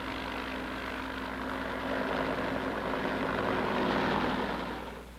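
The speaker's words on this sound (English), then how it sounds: "Fleets of helicopters lift men and artillery into the hills surrounding the base." A steady, loud rotor-and-engine roar of a fleet of military helicopters in flight near Khe Sanh during the Vietnam War, swelling slightly louder toward the end before easing off.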